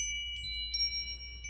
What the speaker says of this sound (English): My favorite little dolphin chime.